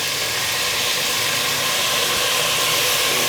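Chopped tomatoes hit a hot pan while mutton kurma cooks, giving a steady, loud, even sizzle that holds for a few seconds with no talking.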